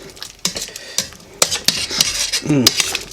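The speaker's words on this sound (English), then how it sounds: "get the mixture mixed pretty good." Metal utensil stirring and scraping chicken adobo in a cooking pot, a Filipino braise, with several separate clinks and scrapes at irregular intervals, close and moderately loud with no talking.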